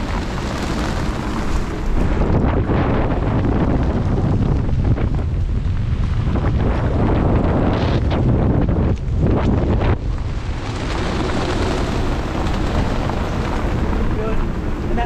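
Strong storm wind buffets a boat anchored on the Great Barrier Reef, roaring loudly and continuously in heavy microphone gusts with waves churning beneath and faint voices in the background.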